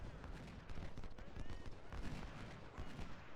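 Massed musket and artillery fire from a Civil War battle in Ultimate General: Civil War rolls on continuously, a dense crackling barrage of overlapping shots at steady loudness throughout.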